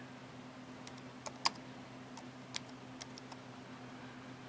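A few sparse, light key clicks on a PowerBook G4 laptop keyboard during a Mac OS Leopard install, isolated taps spaced apart over a quiet hum, close but faint.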